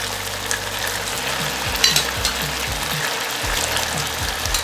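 Broccoli stirred into sizzling beef with oyster and soy sauce in a hot pan, a steady loud sizzle with repeated scraping and clattering strokes of a utensil throughout.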